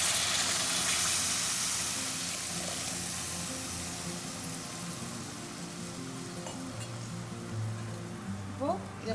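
Tamarind water is poured into a hot cooking pot for a pumpkin vatha kuzhambu, setting off a steady sizzling hiss that gradually settles, with faint stirring clinks near the end.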